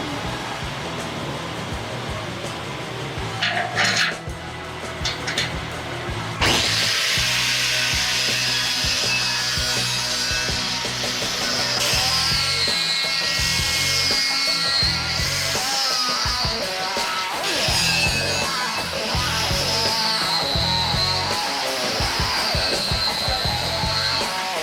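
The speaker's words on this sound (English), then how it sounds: "we prep this for the polishing machine by running one of these red tabs over the blades" A power tool runs a red abrasive pad over the blades of a Volvo Duo Prop propeller, producing a steady, close, high-pitched whirring and rubbing grind that continues with shifting tone, after a few brief scrapes at the start.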